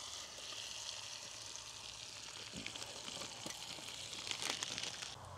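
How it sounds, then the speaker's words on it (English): Bacon sizzling in a pan while wild camping in the dark, a faint, steady crackling fry with small pops and spits, no talk heard. "That's why I thought I'd throw in a load of bacon."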